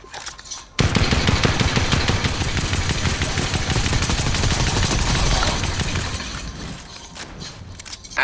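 Rapid automatic gunfire in a shooter video game, loud and sustained for several seconds with dense overlapping bursts, set on the way to an island while hunting for better shotguns.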